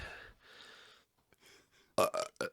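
Burping from a person trying to force out a stuck burp: soft breathy sounds, then three short, loud throaty bursts in quick succession near the end.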